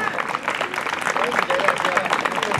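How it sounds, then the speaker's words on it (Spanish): A crowd at a horse racing festival applauds a jockey in a sustained burst of clapping, with a few voices and cheers mixed into the dense, even patter. "fuerte el aplauso para él"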